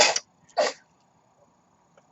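Two sharp, breathy sneeze bursts sound close by, the second a moment after the first, followed by near silence.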